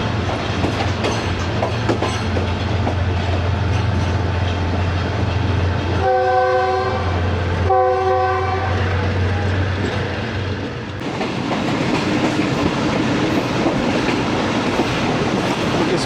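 The Fareed Express passenger train runs at speed with a loud, steady rumble and clatter of wheels, broken midway by two long blasts of its horn, then continues rolling on.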